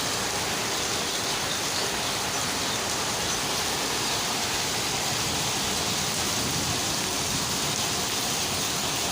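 Steady, dense rainfall hissing continuously across the whole stretch, broadband and even with no breaks, close and fairly loud.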